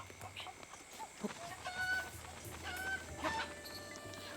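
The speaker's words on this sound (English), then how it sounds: "cuckoos, which are basically just Legend of Zelda chickens" Cuckoos, the chickens of Zelda: Breath of the Wild, cluck and squawk in a game scene, several short bird calls scattered over soft ambient game sound.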